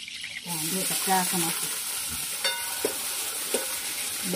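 Cluster beans (gavar) fry in hot oil in a pan, a steady close sizzle running throughout with a few scraping stirs and light clicks of a utensil against the pan.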